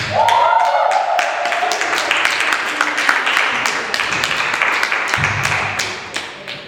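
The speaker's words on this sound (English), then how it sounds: "Let's get another round of applause for Jessica." An audience applauds poet Jessica at Canton's First Friday poetry event: loud, close, crackling hand-clapping that runs for several seconds before thinning out, with a brief voice at the start.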